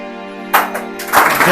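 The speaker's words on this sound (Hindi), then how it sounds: "ताली।" Applause at a goat and sheep farming training session in Loharu, Haryana, as clapping breaks out after a steady tone and swells into a loud burst of many hands.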